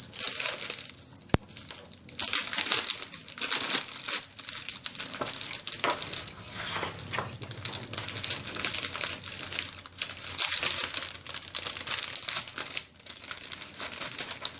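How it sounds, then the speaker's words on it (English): Cellophane sleeve crinkling and rustling as paper scraps are slid inside, irregular crisp crackles and crumples in close bursts with brief pauses. "So now these are going to go into my cellophane."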